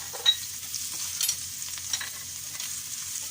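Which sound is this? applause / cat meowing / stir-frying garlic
stir-frying garlic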